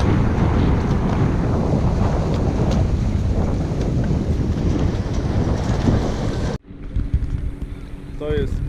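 Strong wind roars across a beach campsite on the Hel Peninsula, buffeting the microphone with a loud, continuous rush before it suddenly drops to a quieter, calmer background near the end.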